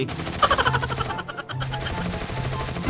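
Gunfire rattles through a Thai-narrated session of the shooter game EVO, with a run of rapid shots early, a brief lull, then steady firing mixed with game music.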